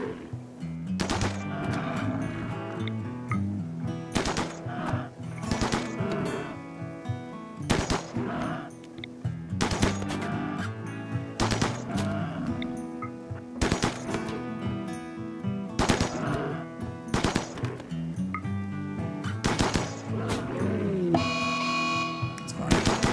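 Video game gunfire as colonists shoot at buffalo, repeated bursts of shots cracking over a busy, continuous background of game sound, with no talking.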